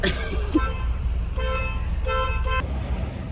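Several vehicle horn toots from a faulty horn, one short and two longer blasts, over steady road and engine noise with faint voices in the background.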